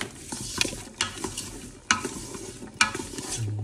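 Onions and peppers for jambalaya frying in a Ninja Foodi, a steady soft sizzle broken by several sharp scraping stirs of a utensil against the pot, close and fairly quiet.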